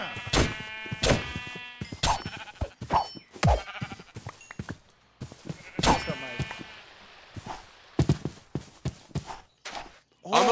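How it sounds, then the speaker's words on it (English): Several sheep in a video game bleat repeatedly and loudly, wavering calls arriving in irregular bursts close by with brief pauses between them, and no voices over them. "They're sheep, though. Sheep."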